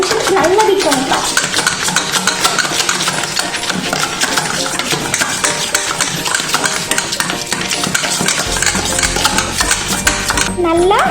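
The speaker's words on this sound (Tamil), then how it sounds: "நல்லா சாஃப்ட் ஆகிற வரைக்கும் 5 நிமிஷத்துக்கு நல்லா பீட் பண்ணிக்கலாம்" Vanilla cupcake batter being beaten steadily in a bowl until soft, a busy continuous clatter and whir at close range with a brief pause near the end, a voice talking over it.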